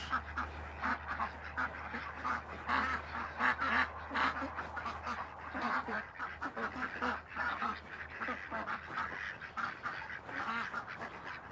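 A flock of ducks quacks continuously nearby, overlapping calls forming a steady, busy chorus with a low hum underneath.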